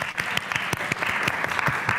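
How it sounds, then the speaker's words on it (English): Conference audience at a Leeds Conservatoire venue clapping, a dense, steady round of applause from many hands filling the room for the whole stretch. "A light applause for Alex there."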